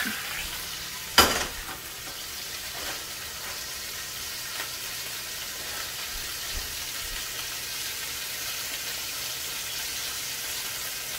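Sea scallops pan-sear in a hot pan, giving a steady, close sizzle throughout, with one sharp clank of the pan or utensil near the start.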